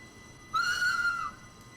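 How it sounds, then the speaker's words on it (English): A single steady whistle tone from a train in a train simulator game, lasting under a second, clear and moderately loud over a quiet background hum. "this is legitimately this train's horn / whistle"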